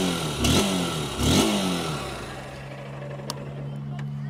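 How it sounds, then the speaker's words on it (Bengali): A Honda SP 160 motorcycle, 2025 model, idles through its exhaust, giving two sharp throttle blips early on, then settles into a steady low idle hum, close by. "সবার আগের এক্সস্ট সাউন্ডটিকে একবার শোনা যাক।"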